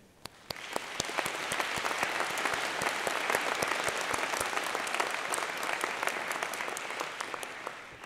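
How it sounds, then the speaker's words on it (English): Graduates at a commencement ceremony break into loud, sustained applause that swells quickly after a few early claps and holds as a thick, continuous roar of hands, with a few sharper claps standing out near the front. "Graduates, can we give a round of applause to show our appreciation to all those who have supported us in this journey?"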